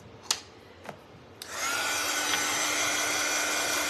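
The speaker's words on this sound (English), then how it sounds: "then I'll run the dryer on it real quick." A handheld dryer starts up after a few faint taps and runs steadily as a loud, even blowing whir, drying freshly applied paint on a piece of work.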